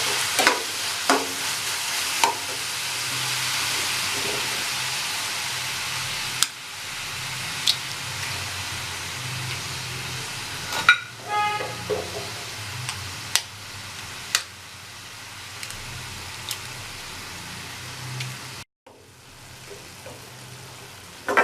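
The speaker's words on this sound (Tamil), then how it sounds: "மிக்ஸ் பண்ணி விட்டதும் முட்டையை உடைச்சி ஊற்றிக்கலாம் அதில்." Kothu parotta is mixed with egg while it fries in a pan: a continuous soft sizzle runs under scattered sharp clicks and scrapes of a spatula against metal, with a short pause near the end.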